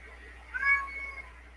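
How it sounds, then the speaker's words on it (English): A male cat gives a single loud, drawn-out meow, close by and rising then trailing off against a quiet room. "he's the only male cat that I have that is that loud"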